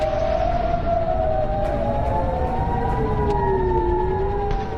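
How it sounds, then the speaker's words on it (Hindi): Several air raid sirens in the Gulf region wail, rising and falling continuously over a dense rumbling background, overlapping tones sweeping slowly up and down without pause. "खाड़ी के देशों में इस वक्त सिर्फ वॉर सायरन बज रहे हैं।"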